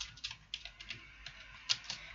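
Fingers tap out a terminal command on a computer keyboard, a steady run of light, close keystrokes with one sharper press near the end, quiet and without talk.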